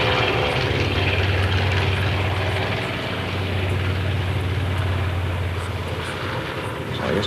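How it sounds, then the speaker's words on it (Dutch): A propeller airplane flies a demonstration at Deelen air base in 1988, its engine drone loud and continuous, holding fairly steady with slight swells as it passes. "Het vliegtuig is begonnen aan zijn demonstratie."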